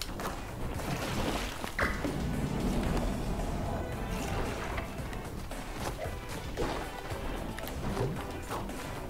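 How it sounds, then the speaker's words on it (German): Glass smashing in the video game Moving Out, a dense crashing, clattering burst of breakage and impacts running throughout, loud and busy, with faint game noise behind it. "Ich weiß, dass Gilsch das Glas zerbrochen hat"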